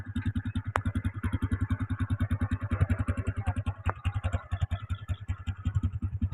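A motorized tricycle engine chugs along a muddy road with a fast, loud, rhythmic putter that stays close and steady throughout, with a couple of sharp clanks from the bouncing frame and no speech.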